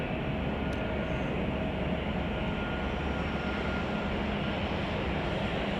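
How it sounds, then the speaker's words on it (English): A Boeing 777-300ER arrives at Chicago O'Hare on runway 10 Center after a long-haul flight, a steady, dense jet engine roar at constant level with no talking. "Boeing 777-300ER."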